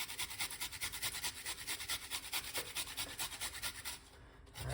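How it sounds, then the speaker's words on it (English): Fresh ginger is grated in a quick, even run of rasping strokes, about four per second, close and fairly quiet, then stops near the end with a soft knock. "we're going to grate the ginger"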